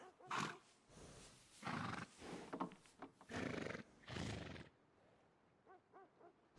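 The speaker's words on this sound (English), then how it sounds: "I got some good bred horses." A horse whinnies and snorts several times at close range in a video game, shrill bursts followed by quieter breathy calls, with no talking.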